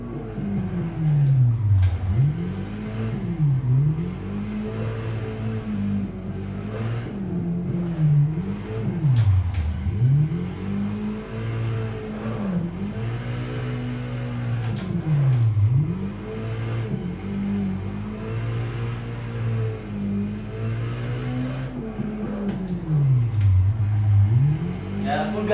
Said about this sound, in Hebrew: פול גז בעלייה, פול גז תעלים!